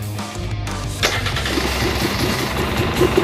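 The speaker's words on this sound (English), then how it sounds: "I'm just going to start the bike up, turn it on" A 2019 KTM 300 XCW TPI two-stroke dirt bike engine cranks and catches after a second, then settles into a steady, loud, close idle.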